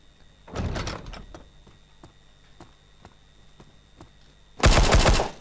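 Gunfire in a Minecraft server styled after CS:GO with MineZ-style survival: a loud automatic burst near the start, scattered faint single shots through the middle, then a second, louder sustained burst at the end.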